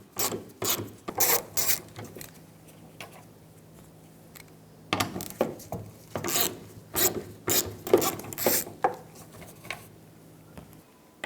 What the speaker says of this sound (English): Now with your 8mm socket, remove all of the screws that hold on the filler neck onto this pocket.